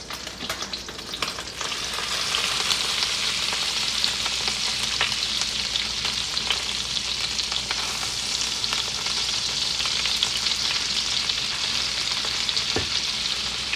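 Almond-battered chicken tenderloins frying in butter and olive oil in a pan, a loud, dense sizzle that swells after a quieter start and holds steady with faint crackles, close and without talk.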